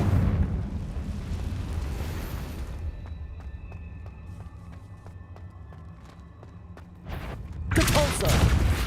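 A Confringo blasting spell in Hogwarts Legacy bursts with a loud, broad blast near the end, after a stretch of low rumble and soft rhythmic ticking, with speech heard along the way.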